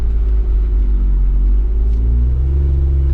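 Jeep Wrangler JL fitted with a Magnaflow exhaust, downshifting as it slows, giving a loud, deep, steady engine rumble with the pitch shifting slightly near the end.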